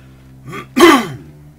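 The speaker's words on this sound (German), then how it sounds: "Entschuldigt, wenn ich ein bisschen heute viel husten sollte oder so oder räuspern etc." A man gives a single close, loud throat clearing, a short low rasp followed by a stronger guttural burst, with no talk around it.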